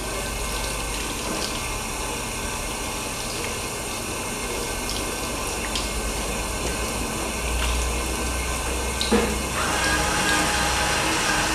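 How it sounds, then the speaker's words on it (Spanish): Tap water runs steadily throughout while hands are rinsed at a sink during a hand-washing routine before peritoneal dialysis and hemodialysis care, a continuous close splashing flow with slight swells and a faint knock near the end. "Enjuagamos."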